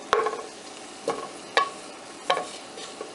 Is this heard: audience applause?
no